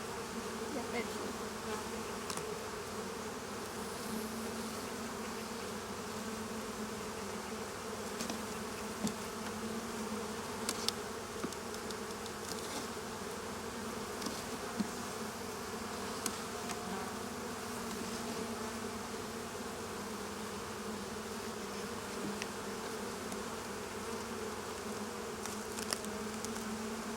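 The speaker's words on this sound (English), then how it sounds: "What I'm going to do is I'm going to shake these bees off" A dense, steady hum of honeybees swarming around beehive boxes continues for the whole stretch, close and even, with faint scattered clicks and knocks but no talking.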